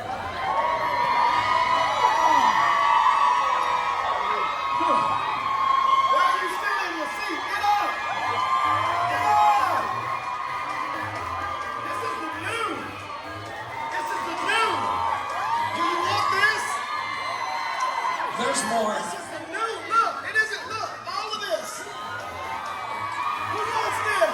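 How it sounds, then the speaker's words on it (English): An audience at a Riman convention in Las Vegas yells, whoops and cheers in repeated loud surges, with a voice talking over the crowd at times. "they also told me that the one that yells the loudest"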